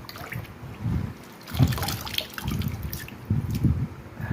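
Banana blossom being washed in salt water, with quiet, irregular splashing and dripping of water that comes and goes in soft bursts.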